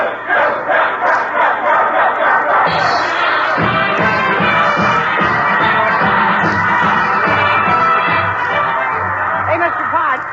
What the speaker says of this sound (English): how about a cheer for our new center, Dribble Jones?